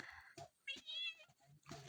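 A cat on a mountain farm gives a clear, close meow with a rising and falling pitch, set between short bursts of other nearby sound and a little speech.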